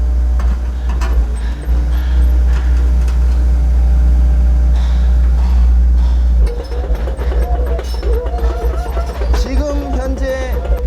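A 2017 Doosan DX55MT-5 excavator with almost 11,000 hours drives slowly on its tracks. A loud, steady low engine drone carries through the whole clip, rough, with a changing rumble in the second half, and someone talks over it.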